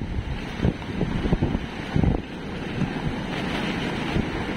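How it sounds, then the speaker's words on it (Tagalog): Strong Super Typhoon Pepito wind roars over the sea at Dinahican, Infanta, Quezon, with big waves crashing in irregular surges and heavy wind buffeting the microphone throughout. "Mas lalo pong lumakas yung hangin, mas lalo din pong lumaki yung alon."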